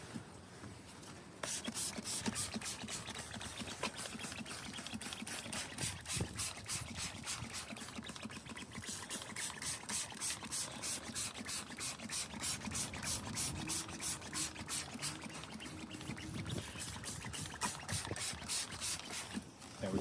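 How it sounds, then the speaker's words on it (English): Rapid, evenly spaced spritzes from a trigger sprayer of all-purpose cleaner repeat in long runs during interior detailing of a Dacia Jogger car, with quieter handling noises in between. "First things I'm going to do, spray this down with the APC."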